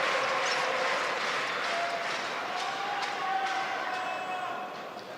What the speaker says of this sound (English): The crowd are going berserk here in the hall.